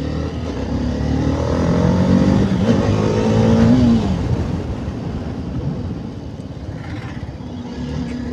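Loud, continuous road-vehicle engine roar from a lorry passing close to a motorcycle, with the motorcycle's own drone running throughout.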